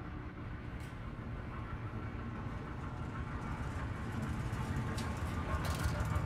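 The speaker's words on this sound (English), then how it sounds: "Oh, it's a fucking train." A train rumbling in the video game Amnesia: A Machine for Pigs, a continuous low mechanical roar with faint clanking that slowly swells louder over six seconds, no talk.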